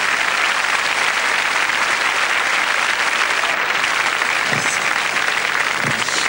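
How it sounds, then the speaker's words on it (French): A French television studio audience applauds in 1992 for a singing duo's first TV appearance, a dense, steady wash of clapping that fills the whole stretch at a loud, even level. "je vous demande d'applaudir encore"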